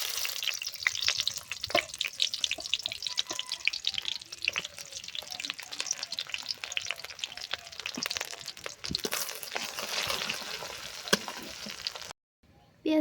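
Chopped onions fry in hot oil in a pan, giving a soft, continuous sizzle with scattered crackles and pops, fairly faint and close, before ending in brief silence.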